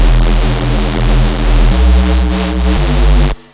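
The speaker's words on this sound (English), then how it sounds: "And change it to square wave," A buzzy square-wave synth bass made in Serum plays sustained notes that shift pitch a few times, rich in harmonics, then cuts off abruptly near the end.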